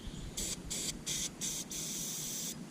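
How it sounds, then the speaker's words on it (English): An aerosol spray paint can, held upside down while painting brakes, blows clear propellant in four short hissing bursts and then one longer steady hiss, close and fairly soft. "It's spraying clear."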